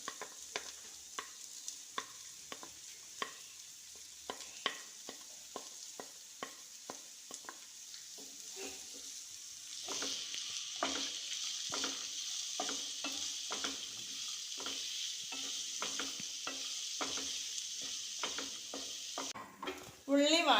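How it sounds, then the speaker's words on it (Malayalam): Chopped onions sizzle in a hot pan while macaroni is prepared, with a steady frying hiss that swells louder halfway through and repeated scraping stirs and utensil taps throughout, fairly close. "ഇനി അരിഞ്ഞ് വെച്ചിരിക്കുന്ന സവാള ഇടുന്നുണ്ട്."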